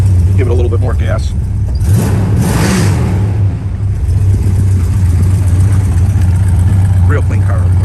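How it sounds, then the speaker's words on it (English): A classic muscle car engine idles with a deep, loud rumble, swelling briefly as more gas is given, then settling back to a steady throaty idle throughout. "Give it a little bit more gas."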